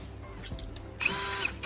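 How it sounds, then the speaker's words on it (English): A drill boring a small hole through the bottom of an empty soda can, a quiet start, then a loud harsh whirring burst close by for the final stretch. "I'm going to drill a small hole right at that center point."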